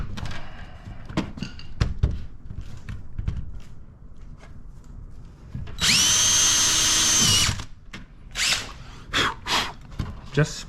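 A power drill bores a hole sized for a 1/4 inch toggle bolt while a wall charger is installed, a steady whine of about a second and a half amid thuds, handling noises and some talk.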